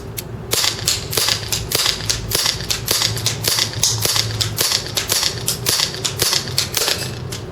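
TSD M1911 airsoft pistol firing BBs at a headshot target at 450+ FPS, a rapid string of sharp, close, snappy cracks, roughly two or three per second, with no voices.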